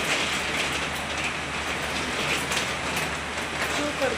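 Heavy rain pours down around the Shankar Maharaj math, a dense, steady hiss of downpour that stays constant and close throughout with no breaks.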